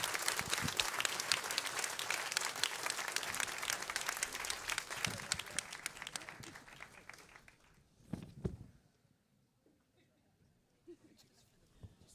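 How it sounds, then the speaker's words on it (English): Pub audience at a politics event applauds independent candidates: loud sustained clapping for about seven seconds that fades out, followed by a few scattered claps and quiet room noise. "please give them a big round of applause"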